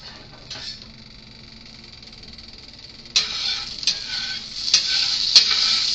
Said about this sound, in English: I'm melting 2 tablespoons butter, and let me just go ahead and spread this around